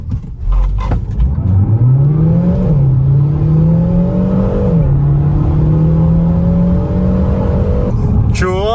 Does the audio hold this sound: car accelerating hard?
yes